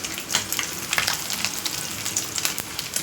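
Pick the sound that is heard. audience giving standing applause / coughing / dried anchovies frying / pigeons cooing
dried anchovies frying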